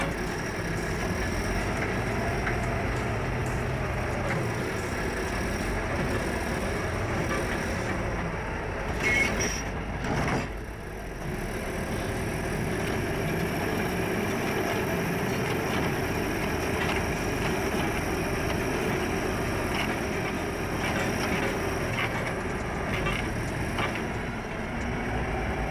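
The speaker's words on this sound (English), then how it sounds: "The loader moves in unison with the truck, keeping it centered as both machines navigate the uneven ground." Heavy machinery, a loader working alongside a truck, rumbles steadily over uneven gravel ground, with a continuous low engine drone and clanking, with a brief dip in the middle.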